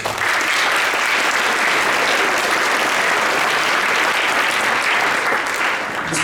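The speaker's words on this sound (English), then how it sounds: "Give him a round of applause." Loud, dense audience applause for a percussion instructor at a school band concert, steady and continuous across the whole stretch with no clear break.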